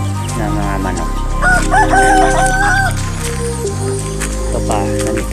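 Organic chickens crow and cluck close by on a farm, a rooster's call rising over the flock's chatter while someone talks over them.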